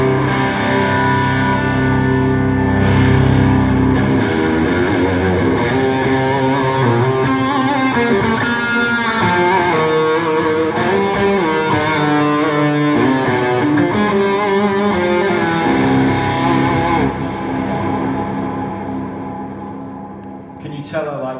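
Electric guitar played through a high-gain amp with heavy reverb, dense distorted chords and long washy tails sustaining loudly throughout, fading slightly near the end.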